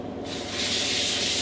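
A quick spray of cooking oil onto two stacked sheets of phyllo pastry for spanakopita, a steady close hiss that swells after a brief quiet start and holds to the end.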